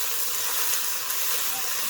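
Onions sizzling steadily in a hot pan as they caramelize for meatball subs, a close, continuous bright hiss with a few faint pops and no talking.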